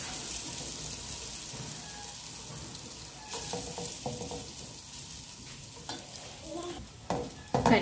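Vegetable noodles with egg stir-fried in a pan, a soft steady sizzle with scraping and stirring strokes, growing more active toward the end; no talking.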